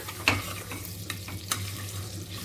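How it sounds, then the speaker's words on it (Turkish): Tomato paste stirred with oil in a pan, a low frying sizzle broken by a few sharp spoon scrapes and taps, close and moderately loud. "Şu anda yağ ile beraber salçayı karıştırıyoruz arkadaşlar"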